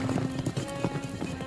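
Horses' hooves clip-clopping in a quick, steady rhythm, a close series of sharp knocks with a faint whinny mixed in.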